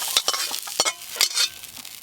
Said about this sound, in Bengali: ফুলকপিগুলো চাপা দিয়ে দিয়ে ভালো করে ভাজবো।